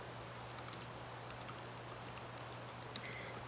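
A computer keyboard is typed on with one hand, giving a quiet, uneven series of light key clicks over a steady low electrical hum, with one slightly louder tap near the end.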